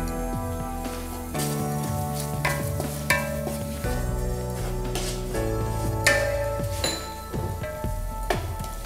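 A spoon stirs prawn biriyani masala with garam masala and pepper as it fries in a pan, giving a steady close sizzle with scraping strokes, while tonal music plays throughout.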